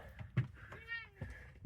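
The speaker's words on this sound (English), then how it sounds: "You meowed at me when I came in" A cat named Munchkin gives a short, rising meow at a rest area, close but quiet, amid soft handling noises and a low voice nearby.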